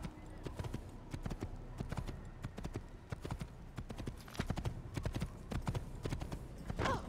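Hooves of a ridden horse clip-clop in a steady galloping rhythm in Assassin's Creed, close and moderately loud, with a brief whinny near the end and a voice talking over the ride.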